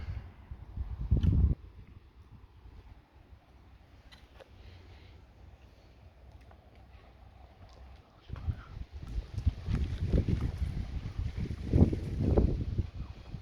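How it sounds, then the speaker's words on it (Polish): Strong wind blowing outdoors beside a bench, buffeting with a low rumble: one short gust near the start, then a quieter lull, then longer, heavier gusts that keep building, with no talking. "Strasznie wieje."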